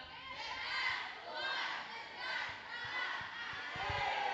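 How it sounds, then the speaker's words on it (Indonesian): Islamic boarding school students shouting their group chant together, a loud massed chorus of young voices in rhythmic bursts filling a hall. "Coba tes dulu yel-yelnya."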